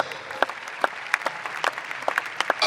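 A church congregation applauding for the Lord, scattered sharp claps over a background of clapping, loud and close.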